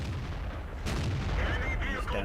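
A tank gun fires in the World of Tanks video game at a damaged Jagdpanther, a sudden loud boom that cuts through steady battle noise and rumbling engine sound, followed by lingering mechanical whine and rattle.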